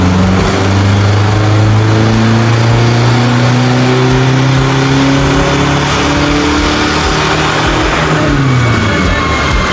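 Audi A3 2-litre TDI diesel engine revving on a dyno, a loud steady drone that climbs and falls in pitch through the run, with no talk over it.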